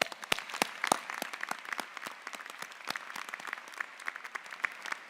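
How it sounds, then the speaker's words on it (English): Applause from a university commencement audience at the Rutgers–Camden 2024 graduation, scattered, distinct claps blending into moderate, fairly distant clapping that continues evenly. "You deserve an applause for that."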